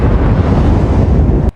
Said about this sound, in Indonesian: sebuah ledakan terjadi di rumah Sabina yang membuat mereka berdua menjadi sangat kaget